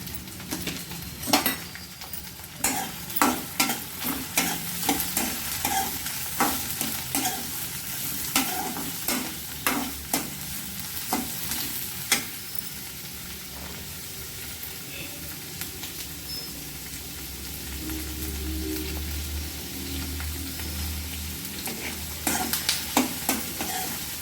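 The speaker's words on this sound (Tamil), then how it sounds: "நல்லா வெங்காயம் வதங்கட்டும்" Onion and green chillies sautéing in a pan for a spicy brinjal chutney, a constant sizzle broken by rhythmic spoon scrapes and taps against the pan, pausing midway before more stirring near the end.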